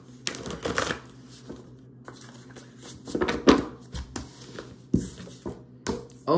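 Tarot cards riffle and slap together in several brisk shuffling bursts, close up, separated by short pauses and soft handling noises.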